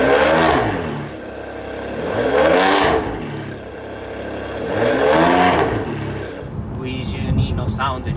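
A Ferrari 599 V12 engine revving repeatedly, with rising and falling sweeps that swell loud and close, each rev building then dropping back, with a clatter near the end.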